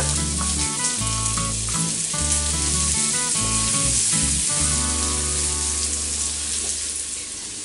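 Finely chopped onion goes into a pan of hot bacon fat for an arrabbiata sauce and sizzles steadily and close, with a constant bright crackle and no talking.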